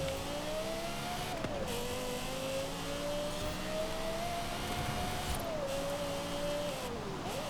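A car engine revs steadily in Forza Horizon, its tone climbing and dipping with gear shifts and throttle lifts, continuous and loud with no talking.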